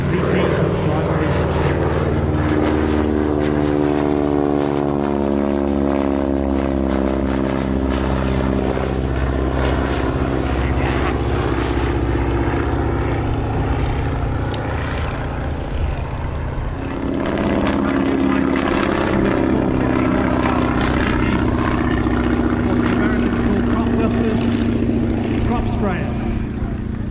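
A PT-13D primary trainer biplane flies at an airshow, its loud radial engine and propeller drone sliding down in pitch as it passes, then surging again near the end, under continuous talk from an announcer.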